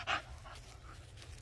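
A big white puppy pants softly and steadily at close range, opening with a brief louder breath. The setting is a garden.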